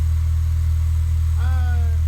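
An Acura RSX Type S with a new Invidia Q300 exhaust idles with a steady, deep, close rumble, and a brief higher whine rises over it near the end.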